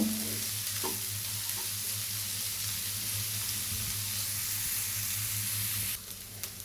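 Vegetables for chicken fried rice frying and being stirred in a pan, a steady broadband sizzle with occasional scraping stirs, close and continuous, dropping slightly near the end.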